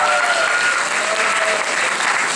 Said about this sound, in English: Let's get a round of applause for him.